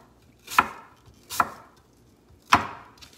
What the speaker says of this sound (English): So again, thin slices first.